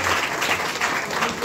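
Audience applause welcoming a guest at a Hindi-speaking gathering, steady dense clapping from many hands that stays loud and even for the whole stretch, with no voices over it.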